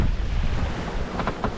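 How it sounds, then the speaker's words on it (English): Wind and waves at sea on a sailboat in the Bay of Biscay, with a steady rush of wind buffeting the microphone over broad wash from the water. "The wind has picked up since we last showed you."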